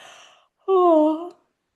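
A storytelling narrator imitates a yawn with his voice: a soft breathy lead-in, a pause, then one drawn-out, wavering vocal yawn that slides downward and ends abruptly.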